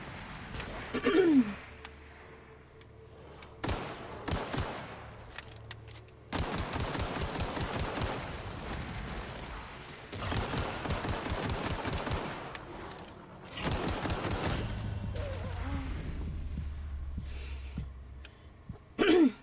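Bursts of gunfire in The Outer Worlds video game come as rapid automatic volleys and scattered single shots, loud and close, with short pauses between strings of fire.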